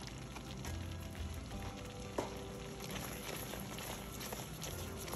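Chicken and shrimp fettuccine with Parmesan sizzles gently in a pan while it's stirred, a faint continuous crackle with light scraping and a soft clink.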